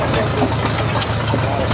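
An antique IHC hay press baler engine runs steadily with a continuous low, knocking rumble, close and loud, with people talking over it.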